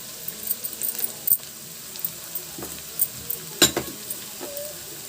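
Cabbage curry sizzling in a pan as cumin, black pepper powder, salt and turmeric go in, a soft steady fry under scattered clinks and scrapes of a utensil against the pot.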